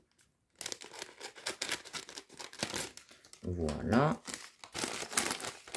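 Scissors snip and cut through the plastic wrapping of a small boxed toy temple set, with crinkling and rustling packaging handled up close, and someone speaks briefly partway through.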